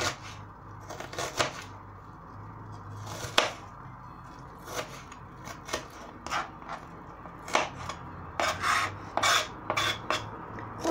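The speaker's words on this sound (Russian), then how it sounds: "Лук режу мелким кубиком." A knife dices an onion on a cutting board, making irregular crisp taps and scraping strokes in quick bursts, close by with no talking.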